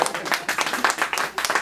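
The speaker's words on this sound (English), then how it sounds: "Now y'all can clap for yourself, if you want." An audience at a live podcast taping claps for itself, a lively burst of close, individual hand claps in an uneven rhythm, a few dozen people with no talk over it.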